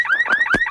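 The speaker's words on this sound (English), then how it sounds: "That's the sound of a wimpy car alarm." A loud, close electronic car alarm whooping in a rapid repeating rising tone, with a few sharp clicks between cycles.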